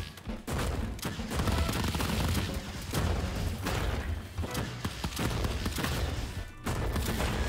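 A rocket launcher in The Crackpet Show, a cartoon bullet-hell roguelite, fires rapidly in a dense barrage of thumping blasts and explosions, loud and nearly continuous, with brief gaps between bursts.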